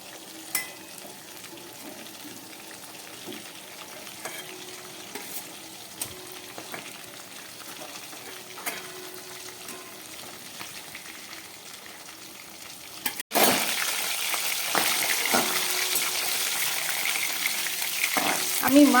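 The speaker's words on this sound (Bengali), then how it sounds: "আমি মাছ আর মাছের মাথাটা খুব ভালো করে একদম ভেজে নিয়েছি, লাল করে ভাজলাম" Ritha tengra fish, heads included, frying in hot oil for a Bengali kosha, with a steady dense sizzle that jumps louder partway through, plus occasional utensil clinks and no talk.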